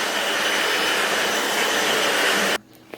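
A FloorMate Deluxe hard floor cleaner runs in dry vacuum mode with its brushes raised, giving a loud steady whooshing motor roar up close that cuts off abruptly near the end.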